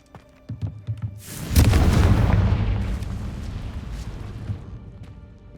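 The Confringo blasting spell in Hogwarts Legacy goes off with a loud, close explosion: a few soft clicks, then a heavy boom that rolls and decays over several seconds.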